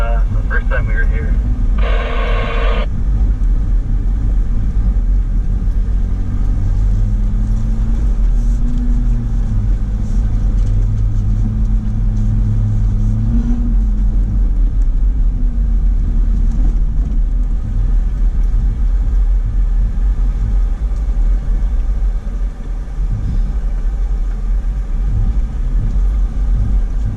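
A vehicle engine labors and revs steadily while climbing a rough off-road trail, a loud, continuous low rumble that rises and falls in pitch, with a brief burst of radio chatter and occasional talk over it.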